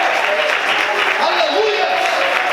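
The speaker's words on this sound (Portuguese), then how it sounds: "Quantos podem aplaudir a Ele por isso?" A church congregation applauds during a sermon, continuous loud clapping from a packed room, with voices of the gathering mixed in under the clapping.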